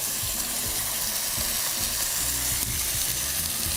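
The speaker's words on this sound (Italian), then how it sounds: "vedi già che la pasta si sta cominciando a bruciacchiare" Spaghetti fry and crisp in a hot pan with a steady, dense sizzle and crackle that never lets up, close and loud with no talking.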